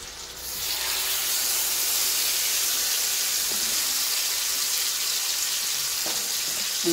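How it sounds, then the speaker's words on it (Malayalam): Steady, loud sizzling of chicken frying in hot oil, a continuous crackling hiss that fills the whole clip with no voices. "നമ്മൾ ചിക്കൻ മൊരിയുന്നുണ്ട്."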